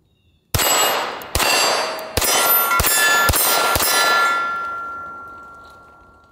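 A Staccato 9mm pistol fires six sharp, loud shots in an uneven rhythm, each followed by a bright metallic ringing clang that lingers and slowly fades after the last shot.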